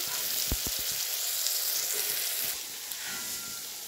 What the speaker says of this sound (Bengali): পনিরের পটলটাকে একটু হলুদ লবণ দিয়ে ভেজে নিচ্ছি।